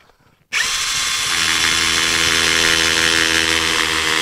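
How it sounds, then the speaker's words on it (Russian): A WOSAI 20V WS-MD13 brushless cordless drill bites into a concrete path, starting abruptly after a brief quiet moment and then holding a loud, steady, high-pitched whirring drone. "Ну, и бетонную дорожку на ура сверлит."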